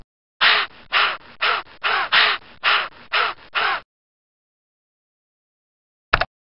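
Seagull-like cries in the children's video game Bailey's Book House, a loud, close series of about eight harsh squawking calls in quick rhythm, then silence and a brief final call.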